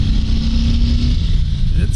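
A 2022 Harley-Davidson Heritage Classic motorcycle engine holds a steady, loud, deep rumble with a slight rise toward the end, alone with no voices.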